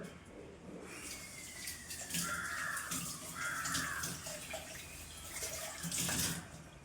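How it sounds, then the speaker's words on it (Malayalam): Water is poured and sloshed into a mixer jar nearby for a few seconds while rinsing it, a soft gurgling rush that rises and fades, with no talking. "ജാറ് കഴുകി വെള്ളം കൂടെ അതിനകത്തോട്ട് ഒഴിച്ചു കൊടുക്കാം."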